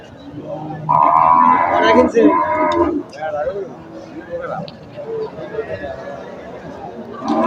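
A cow lets out a loud, drawn-out moo close by, amid the chatter and murmur of a busy crowd at Kalampur weekly cattle market.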